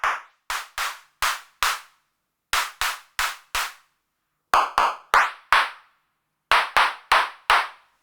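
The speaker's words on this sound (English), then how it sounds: "So there's loads of nice claps in there." Drum machine clap sounds from a Hexdrums unit, sharp isolated electronic hand-clap hits played in short groups of four with pauses between, each with a quick decay and varying tone, loud and close with no talking.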